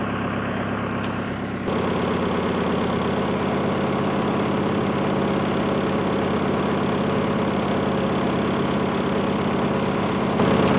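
Wood chipper engine idling low and steady, a continuous close mechanical drone with vibration that holds unbroken for about eleven seconds and steps up slightly in loudness near the start.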